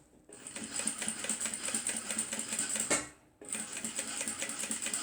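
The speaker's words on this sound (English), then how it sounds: "So now we're going to stitch 1/2 centimeter away from the start stitching." A sewing machine stitches a zipper handbag half a centimetre from the start of the seam, running in a steady, close mechanical whir that pauses briefly near the three-second mark before starting up again.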